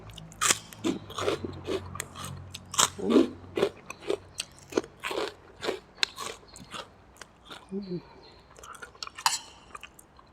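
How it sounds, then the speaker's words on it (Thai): Crispy potato crackers are bitten and chewed alongside small-noodle pork nam tok soup with fried garlic, giving close, sharp crunches in uneven bursts with chewing between them. "นี่แคปมันฝรั่งกรอบๆเลย ไปกินกันเลย"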